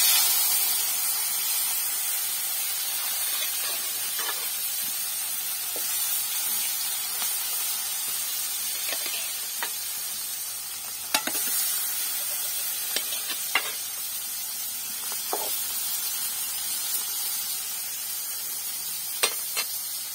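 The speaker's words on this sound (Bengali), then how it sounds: "এখন হচ্ছে মাছটা ভেজে নিব।" Poa fish fries in oil in a wok, giving a continuous dense sizzle with scattered sharp pops and crackles and no talking.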